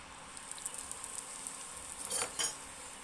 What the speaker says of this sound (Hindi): गोलगप्पे को तलने के लिए एकदम गर्म तेल चाहिए